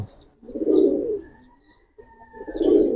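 Giribaz tumbler pigeons coo nearby, two soft, low throaty rolling calls separated by a short pause, with faint background chirps.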